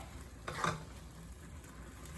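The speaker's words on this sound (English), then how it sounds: "stir frying my kangkung or ong choy" Soft sizzling of water spinach (kangkung) being stir-fried in a wok, with a brief scrape of a spatula partway through; quiet and close.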